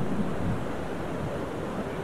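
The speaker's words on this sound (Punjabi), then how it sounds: "ਪਾਣੀ ਦਾ ਪਹਾ ਦੇਖਿਆ ਦੇਖਦੇ ਦੇਖਦੇ ਕਿੰਨਾ ਤੇਜ਼ ਹੋ ਗਿਆ ਹਵਾ ਵੀ ਤੇਜ਼ ਆ ਪਾਣੀ ਵੀ ਬਹੁਤ ਤੇਜ਼ ਹੋ ਗਿਆ ਆ" Rushing mountain river water and strong wind on the Manimahesh Yatra trail between Dhansho and Shivghrat, a dense continuous roar close to the microphone with gusts buffeting it.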